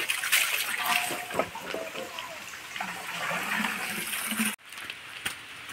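Water rushes and splashes steadily into a metal pot being filled at a village well, a continuous gushing noise with a brief break near the end.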